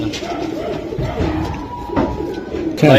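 Pigeons at a market stall coo in low, throaty, repeated calls close by, over a busy background with a crowd murmuring and a brief louder noise at the end.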